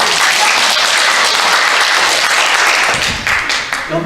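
Children's congregation at a church Sunday service breaking into applause, a dense sustained burst of many hands clapping loudly that thins out toward the end.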